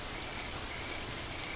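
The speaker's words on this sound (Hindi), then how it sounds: "इस तरह अचानक मूसलाधार बारिश होना अजीब है" Sudden heavy downpour on the Serengeti plains, a dense, continuous hiss of rain drumming on surfaces, loud and unbroken throughout.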